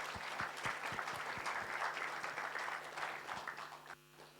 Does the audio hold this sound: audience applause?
yes